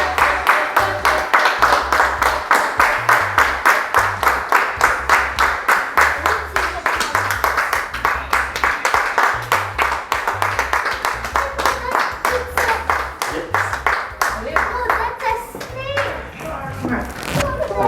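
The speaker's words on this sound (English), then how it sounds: "we'll be clapping to welcome lips" A group of children at a zoo in Lacovia, St Elizabeth, Jamaica claps in a steady, rapid rhythm to welcome someone, loud and close, with children's voices chanting and talking over the clapping until it thins out near the end.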